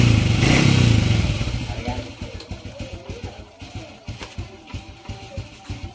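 A Honda Revo motorcycle with a freshly repaired carburetor sits close by, first running loud and high, then dropping into a steady, pulsing idle with even low thumps. Speech is heard over it.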